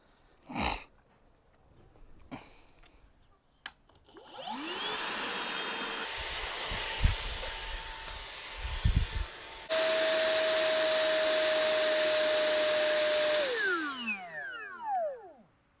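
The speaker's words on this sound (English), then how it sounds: "we're going to test it on high speed and see how much time of use we get out of this battery on a high speed with this vacuum" Milwaukee M18 cordless vacuum, its motor spinning up with a rising whine, first at a lower setting, then switched to high speed for a louder, steady roar that winds down to a stop at the end.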